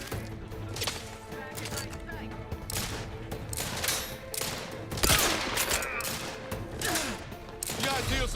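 Sustained in-game gunfire from The Outer Worlds 2 fills the clip as a dense fusillade of overlapping shots and impacts, with several sharp bursts that come and go, heard loud and close throughout.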